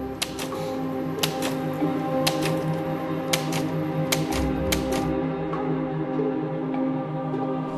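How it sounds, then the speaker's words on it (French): Keys striking on a manual typewriter, tapped in uneven bursts of sharp, close clacks over a low background hum, with no voices. "C'est la première fois qu'il tape à la machine."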